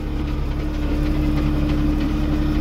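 A loud, steady low tractor engine rumble drones throughout, running nearby with constant vibration during crop spraying of a sunflower field.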